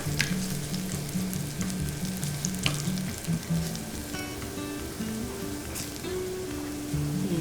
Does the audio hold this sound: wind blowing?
no